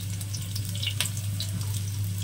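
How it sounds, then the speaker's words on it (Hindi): Garlic sautéing in a pan for a pea puri recipe, a steady close sizzle and crackle with faint scraping, no talking. "और इनको थोड़ा सा हम भून लेंगे लहसुन"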